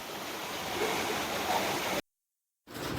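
Steady rushing water from a jungle waterfall fills the scene with a dense, even roar, cutting out abruptly to silence for a moment before resuming.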